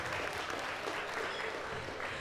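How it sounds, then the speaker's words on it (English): Audience applauding a volunteer as she comes up at an entrepreneurship talk, a steady wash of clapping throughout, fairly distant and even. "Give her a big round of applause."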